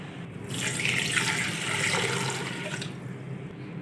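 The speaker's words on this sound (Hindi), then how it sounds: "दो लीटर पानी ऐड करेंगे जिसमें हमारा बीफ अच्छे से गल जाए।" Two litres of water pouring steadily into a pressure cooker over beef for a Kabuli pulao, a broad continuous splashing rush that starts about half a second in and runs close and fairly loud for a few seconds before easing off.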